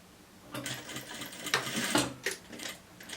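A sewing machine runs in several short bursts, stitching a seam on a sweatsuit, with a steady rapid mechanical whir and brief pauses between runs, close by and fairly loud.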